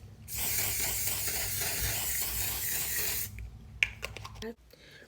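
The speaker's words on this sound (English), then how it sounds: "So with our One Size Until Dawn setting spray." One Size Until Dawn makeup setting spray is misted from a pump bottle in a steady, close hiss lasting about three seconds, followed by a few soft handling clicks and taps.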